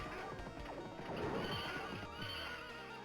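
Horse neighing in the Capcom beat 'em up game Knights of the Round, a loud drawn-out whinny with clip-clop hooves and game effects layered over it, filling the whole stretch.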